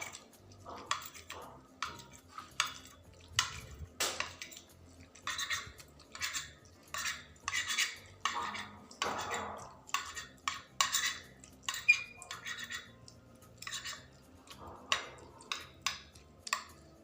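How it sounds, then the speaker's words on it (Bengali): Pasta is mixed with cream in a pan, making repeated scraping and clinking strokes of a utensil against metal in an uneven rhythm, close and fairly quiet. "দিয়ে হালকা করে এভাবে মিক্স করব যেন পাস্তাটার সাথে ক্রিমটা লেগে যায়।"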